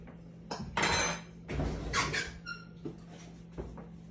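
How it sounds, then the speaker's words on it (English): A metal pan lid set down on a kitchen counter while making buttermilk cornbread, giving a few short clattering clanks and a brief ringing squeak, close by and fairly quiet, with no talking. "I'm just going to set this pan lid down here to set my pan on."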